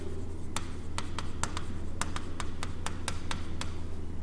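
Pen strokes tap and scratch across paper while a journal entry is handwritten, a dozen quick crisp marks in an irregular rhythm over a steady low room hum.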